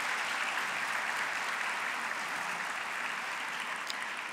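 Warm, sustained applause fills a dental medicine graduation oath ceremony hall in Lisbon, a dense steady wash of many hands clapping for the graduates' families, with no voices over it.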